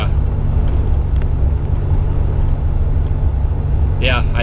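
A two-wheel-drive Toyota T100 pickup with upgraded shocks drives on a road, with a steady low engine and road rumble filling the cabin throughout; a voice speaks briefly at the end.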